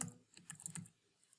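Quick bursts of computer keyboard typing, a few clustered keystrokes close and fairly quiet, tapering off into near silence.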